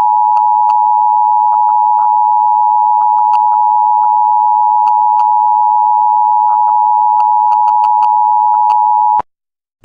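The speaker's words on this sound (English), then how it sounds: "Oh my gosh, not another EAS." An EAS emergency alert tone from the game EAS.exe: a steady, loud, continuous high beep held for about nine seconds, punctuated by faint clicks, then cutting off abruptly.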